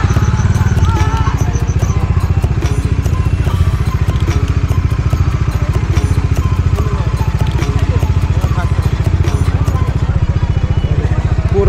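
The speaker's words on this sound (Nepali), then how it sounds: "आज चाहिँ मैले कलेजमा नवीनको बाइक लिएर आएको छु होइन डोमिनार 400" A Bajaj Dominar 400 motorcycle engine runs loud and near, its fast, even firing pulses continuing without a break.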